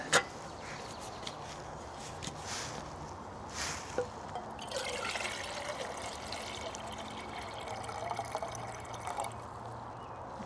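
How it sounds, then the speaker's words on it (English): Two cups of cold water poured into the pot of a Jetboil Flash hiking stove, a soft, steady trickle that is faint and close, with a small splash at the start and no talking. "We need to put the water in here, the cold water,"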